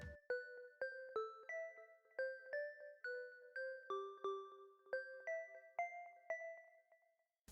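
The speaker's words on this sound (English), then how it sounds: "also retrologue, is this bell sound here" Synthesized bell tones from the Retrologue synthesizer play a rhythmic melodic pattern, each note striking clearly then decaying, steady and evenly spaced, with no voices.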